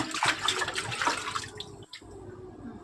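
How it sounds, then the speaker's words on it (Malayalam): Water splashes and runs steadily as cleaned, cut fish are washed for curry, a continuous close wash with a brief pause near the end. "ബാക്കി മീനെല്ലാം ദേ വെട്ടിത്തേച്ച് കഴുകി എടുക്കുന്നുണ്ട്"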